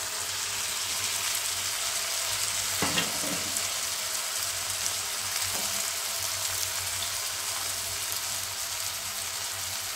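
Diced potatoes and chopped green chili fry in oil, giving a soft, continuous sizzle with a few brief scraping and clinking stirs.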